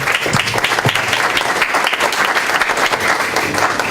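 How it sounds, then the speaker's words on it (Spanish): An audience applauds steadily, dense clapping from many hands that holds at full volume throughout. "Un aplauso"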